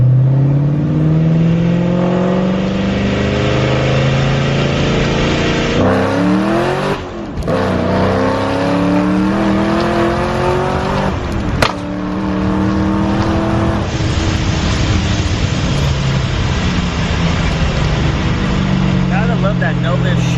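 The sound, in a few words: straight piped supercharged Mustang revving with open headers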